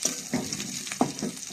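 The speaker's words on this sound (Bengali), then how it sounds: "বড়ই দিয়ে সুন্দর করে আবার নাড়তে থাকবো," Jujubes and garlic frying in a pan while being stirred, with a soft continuous sizzle broken by a few short scraping strokes of the spoon, heard close and alone.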